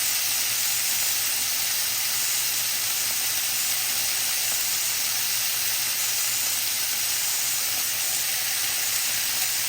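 Beef frying in a pan gives a steady, unbroken sizzle and hiss at moderate level, with no talking over it.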